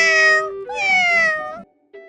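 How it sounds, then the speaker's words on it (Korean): A cat meows twice in close, clear calls, the second long and drawn out, followed by a short third mew. "우리 고양이는 냥냥"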